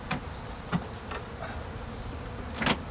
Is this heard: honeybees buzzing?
yes